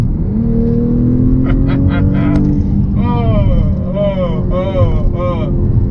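A 2020 BMW X3 M40i SUV engine revs up and holds at a high pitch in gear while someone talks loudly over it, the roar rising and wavering throughout.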